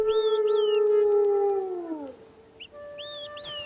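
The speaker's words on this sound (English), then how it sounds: "Their howling takes on a mournful, searching quality, as if they are trying to call Mataki back." Grieving wolf pack howling in the wild, long mournful sliding howls from several animals, one loud and near, others higher and overlapping, falling away then rising again.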